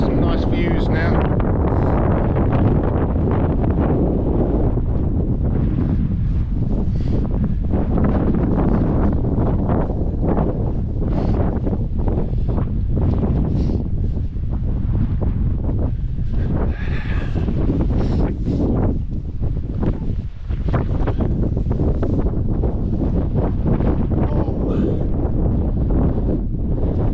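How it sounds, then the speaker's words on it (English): Steady wind buffeting a microphone on a mountain in the Carneddau, North Wales, a loud continuous low rumble with gusty surges throughout, with a person speaking over it. "well, still a bit windy."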